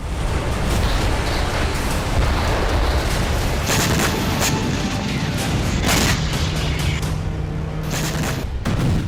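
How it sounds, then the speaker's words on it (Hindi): Loud, booming explosions and crackling bursts of a tank being destroyed in war roll continuously, a heavy wall of blasts with sharper cracks standing out near the middle and end. "जोरदार धमाका हुआ और टैंक स्वाहा हो गया।"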